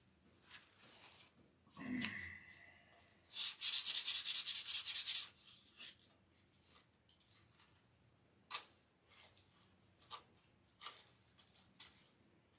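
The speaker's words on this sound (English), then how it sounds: "Might rub some thinner in it or something to" Thinner being rubbed by hand into a silkspan covering on a model aircraft wing: a short squeak near the start, then a loud dense burst of scratchy rubbing that fades into scattered soft scuffs and taps.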